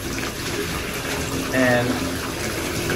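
Water runs steadily from a tap being adjusted to the right temperature, with cold water warmed for an aquarium water change, a constant close hiss with a brief louder gush partway through, under a voice saying a word.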